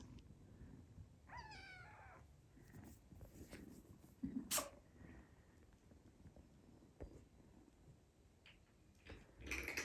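An 8-week-old Ragdoll kitten meows early on, then a quick, sharp kitten sneeze pops out around the middle, with another faint sneeze-like burst near the end over quiet background.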